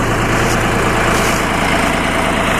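Ditch Witch 4010 backhoe with a Duke 3-cylinder diesel engine idling steadily, a close, loud, continuous low rumble with even, unbroken rhythm and no voices.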